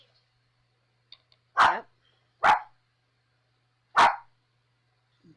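Three sharp, close barks from small dogs ring out in a quiet room, spaced about a second apart. A few faint yips come before them, and a voice speaks a single word.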